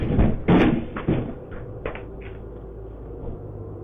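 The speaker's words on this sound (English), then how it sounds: "Smashed the door open." Heavy, loud thuds and a crash at the start as a spooked horse smashes a door open, followed by a few fainter knocks and rattles.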